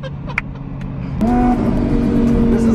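A car pulls hard in third gear from 5,000 RPM, the engine note jumping midway into a loud, sustained rising roar heard close up from inside.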